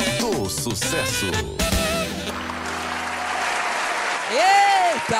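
Studio audience applause on the Brazilian TV show Portal do Sucesso, a dense wash of clapping that swells toward the end, with singing and talk heard over it.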